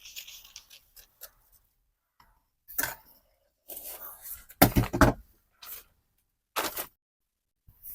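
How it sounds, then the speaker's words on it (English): Scissors cutting fabric for a cowl neck top, crisp snipping strokes in irregular bursts with brief pauses between, close and clear. "So I'm cutting on the back armhole first, then cut on the shoulder, then I'll cut on the back neckline."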